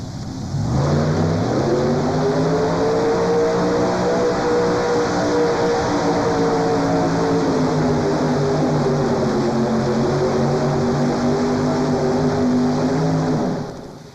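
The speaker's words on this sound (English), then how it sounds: "Those 2 Chevrolet motors are bolted crank to crank, ladies and gentlemen." Two Chevrolet engines bolted crank to crank roar at the 1992 National Farm Machinery Show, a loud, sustained drone with rising and shifting pitch that holds for about thirteen seconds before cutting off.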